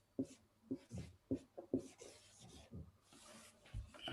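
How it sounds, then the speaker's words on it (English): A pen scratches on paper as the word ether is written by hand, in a quick run of close, distinct strokes with short pauses between them. "Now, we will write the word ether down."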